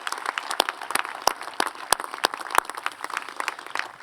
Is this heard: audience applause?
yes